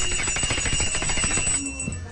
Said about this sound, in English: What's up with this bell now?